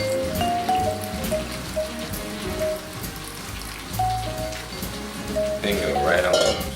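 Water poured into a bowl of flour for crusty bread dough gives a close, splashy trickle with soft clinks, ending in a brighter gush of pouring.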